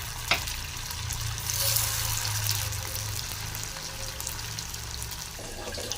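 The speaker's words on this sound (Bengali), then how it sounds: "ভালো করে লাল লাল ভেজে নেব।" Soybean chunks fry in hot oil in a pan, giving a steady loud sizzle that hisses on for several seconds. One sharp clink of a utensil comes near the start, and there is no speech.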